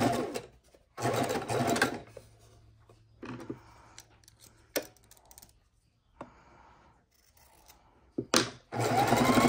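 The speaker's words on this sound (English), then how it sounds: "Just keep grabbing pieces and sewing them together." Sewing machine stitching fabric scraps for scrappy quilt blocks, several short bursts of rapid whirring stitches separated by quiet pauses and small handling clicks.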